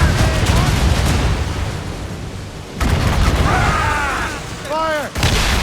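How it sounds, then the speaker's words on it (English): Ship cannons in Assassin's Creed Rogue fire a volley as heavy booming blasts, with a loud burst early and another near the end, over rumbling naval battle noise and shouting voices. "They're firing a volley!"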